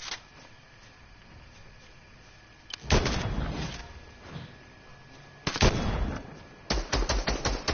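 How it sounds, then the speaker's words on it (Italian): Heavy cannon fire in a PS4 video game, heard as three loud broadband blasts, each followed by a rumbling tail, with quieter game ambience between them and no talk. "Chi è che ha usato il cannone?"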